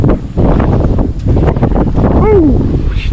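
Strong gusting wind roars across the microphone at a rainforest lookout before a storm, with rustling, one brief sliding whistle-like note near the end, and no talking.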